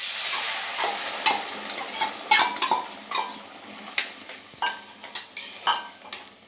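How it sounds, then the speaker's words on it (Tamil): Cooked lentils go into a sizzling tempering of cumin, urad dal and fenugreek in a clay pot, bringing bright hissing and crackling frying with repeated scraping and stirring knocks, close and fairly loud, with no talk. "இப்போ பருப்பு எடுத்து ஊற்றிடலாம்."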